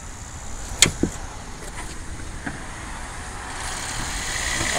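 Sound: 2004 Toyota Prius hybrid engine turning on as gas pressed

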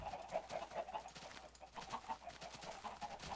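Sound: chickens clucking in the video game Minecraft

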